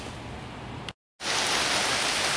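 Heavy rainstorm pouring down outdoors near someone working on a Small Block Chevy engine in an old van or truck chassis, a loud steady hiss of rain that cuts out briefly for a moment, then returns even stronger.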